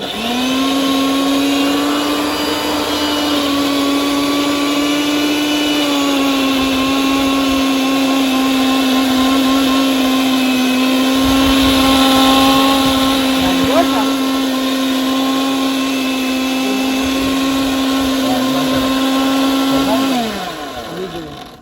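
A mixer grinder blending coriander and ginger into paste for bhel, a loud steady motor whine close by that holds one pitch for about twenty seconds before cutting off.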